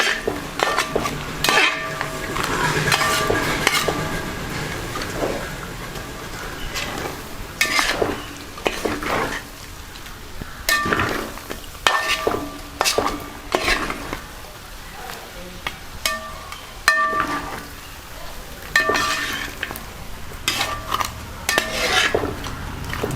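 Mutton head and grated coconut being stir-fried in a pan, with repeated scraping and clinking of a spoon against metal over a soft sizzle, in bursts separated by short pauses, with speech at times.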